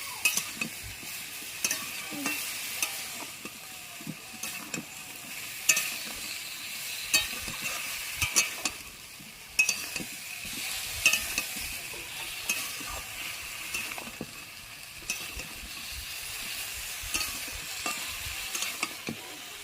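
Shukto with fried papaya is stirred in a pan over a soft, steady sizzle, with repeated scraping taps of the utensil against the pan, close and fairly quiet.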